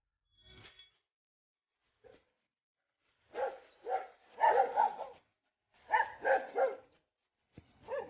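A dog at a countryside spot in rural Vietnam barks in a few separate bursts, first a short isolated yelp, then clustered runs of three or four sharp barks, fairly near and otherwise quiet.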